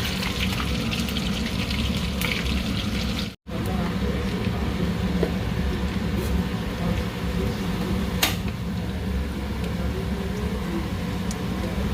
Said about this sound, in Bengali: মাছ ভাজা হচ্ছে বন্ধুরা।